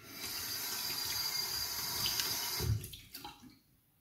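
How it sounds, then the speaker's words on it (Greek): Tap water runs steadily from a faucet over a safety razor blade being warmed with lukewarm water during a wet shave, a close, continuous splashing flow that cuts off near the end. "Ζεσταίνουμε λεπίδα έτσι με λίγο χλιαρό νερό."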